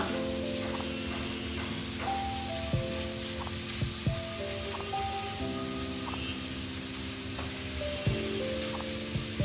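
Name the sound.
fried rice frying in a pan, jaggery powder added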